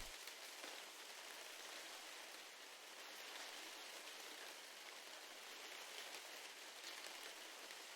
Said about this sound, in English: I like the sound of this rain.